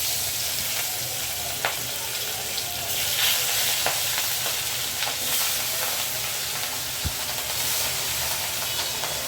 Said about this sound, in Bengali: তেল গরম হয়ে এসেছে, এবার মাছগুলো ছেড়ে দেবো